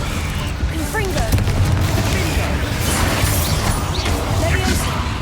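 Spell blasts boom through a Hogwarts Legacy battle as the Confringo fire curse goes off, a dense run of explosive bursts and crashes layered over constant loud game noise for about five seconds.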